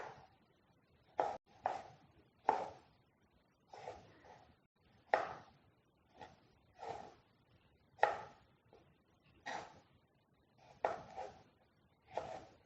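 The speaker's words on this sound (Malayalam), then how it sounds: "തക്കാളി മുറിച്ചെടുത്തു." A knife chops tomatoes on a board in a home kitchen for paneer tikka masala, about fifteen crisp, close, irregular thuds and taps, with quiet gaps between cuts.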